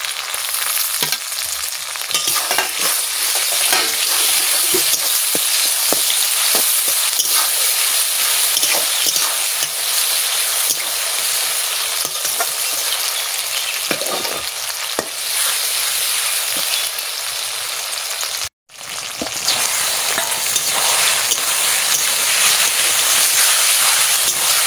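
Onion and spices frying in hot oil in a pan, a loud continuous sizzle and hiss with stirring scrapes, broken by one brief cut near the end, no talking.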